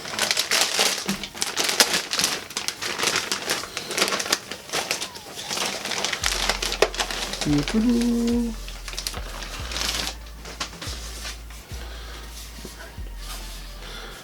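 Netgear Nighthawk AX4 AX3000 router being unwrapped from its packaging, with dense crinkling and rustling of plastic and paper, a few soft thumps, and faint tones in the background.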